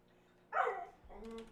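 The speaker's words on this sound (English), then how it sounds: "Okay, my dog, I don't know what to do about my dog." A pet dog lets out a short bark followed by a thin whine indoors, both brief and fairly close, with little else around them.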